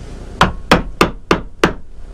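A chisel is struck with a hammer to make stop cuts while hand-carving a wooden walking stick: five sharp, evenly spaced knocks, close and loud, with quiet gaps between them.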